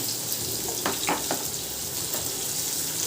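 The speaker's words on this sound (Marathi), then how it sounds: "यामध्ये मी आता कांदा घालते, बारीक चिरलेला" Finely chopped onion goes into hot oil with fried chillies on a tawa for besan pithale, setting off a steady broadband sizzle with a few brief bursts of louder crackle early on.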